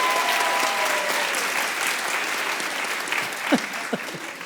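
A live comedy show audience applauds steadily, a dense wash of clapping that holds for the whole stretch and thins slightly toward the end, with a few louder claps near the finish.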